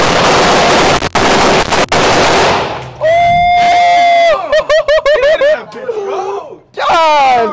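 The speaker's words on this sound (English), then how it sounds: "We finna go ahead and shoot." Heavy guns firing as a rapid, loud burst of dense gunfire in the opening seconds, followed by whooping voices and shouts.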